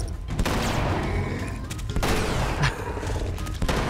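Gunfire in a survival horror video game aimed at a Bloater, with several loud shots over dense, continuous game noise and rumble, close and busy throughout.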